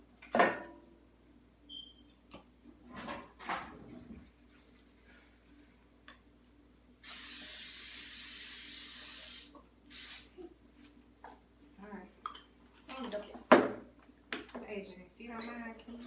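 Cooking spray hissing onto a cake pan for a chocolate cake, one steady burst lasting about three seconds, close and fairly loud, with people chatting and kitchen clatter around it.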